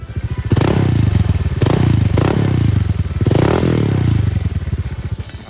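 A Honda Vario 150 scooter with a modified exhaust revs hard close by in three loud throttle blips, each rising and falling, with a rattly, popping idle between them.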